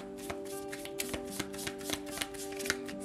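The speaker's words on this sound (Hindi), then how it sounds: "तो चलिए शफल कर लेते हैं सिंह राशि लियो साइन के लिए।" Playing cards shuffled by hand for a Leo tarot-style reading, a steady riffling patter of quick card snaps with a faint tonal hum in the background and no talk.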